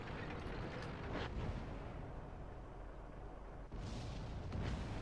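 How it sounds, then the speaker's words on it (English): Distant artillery fire in the World of Tanks video game, a low rumbling boom blending into continuous battle noise, muffled and far rather than sharp. "Is that an arty shot? They've got 3 pieces of artillery."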